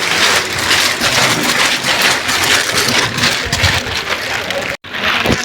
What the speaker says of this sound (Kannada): ಸಿಕ್ಕಾಬಿಟ್ಟೆ ಮಳೆಯಲ್ಲಿ ಅವಾಗವಾಗ ಮಳೆ ಬರ್ತಾ ಇರುತ್ತೆ